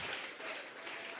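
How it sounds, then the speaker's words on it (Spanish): Congregation clapping hands during a Spanish-language church service, a brief dense patter of applause at moderate volume. "Dele fuerte esas palmas al Dios de la gloria"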